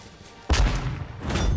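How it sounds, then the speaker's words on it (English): Flashbang grenade going off in a first-person shooter game, a sudden loud boom followed by a sustained ringing wash of noise and a second burst of blast noise near the end. "Flashbang."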